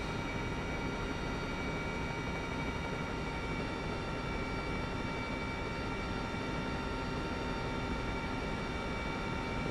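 Simulated Mi-2 helicopter in MSFS 2024 in flight, a steady, dense engine and rotor drone that holds at an even loudness throughout, with no talk over it.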